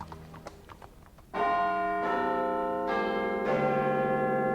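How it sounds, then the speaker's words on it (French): Neighbouring church bell tolling eleven o'clock on a Sunday night: four loud, ringing strokes about a second apart, each leaving a long metallic hum that overlaps the next. "la cloche de l'église voisine sonnait 11 heures"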